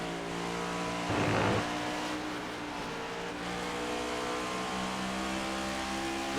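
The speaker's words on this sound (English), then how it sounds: "Hear that car wind down into turn 1" In a racing video game at Watkins Glen, a race car engine whines through its gears, with a brief burst of noise as it slows and downshifts into turn 1, then a steady droning engine tone continues.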